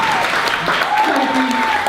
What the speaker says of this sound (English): Round of applause, Tara, thank you.